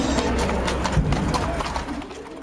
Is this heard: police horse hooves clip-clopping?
yes